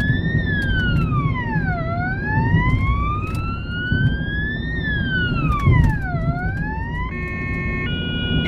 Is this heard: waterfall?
no